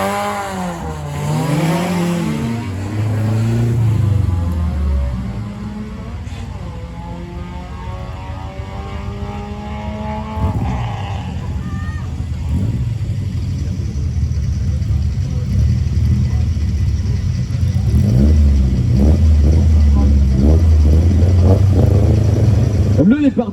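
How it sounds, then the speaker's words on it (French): A Peugeot 205 F2002 rally car launches on a hill climb start, engine screaming up through gear changes with rising pitch sweeps, then fading into a steady distant drone with a loud approach near the end, under commentary. "Le départ d'Alain Thierry pour sa dernière montée du jour avec sa Peugeot 205 F2002."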